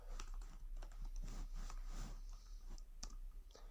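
Fast, light typing on a computer keyboard while writing JavaScript code, with close, quiet clicking keystrokes in irregular bursts and no voices.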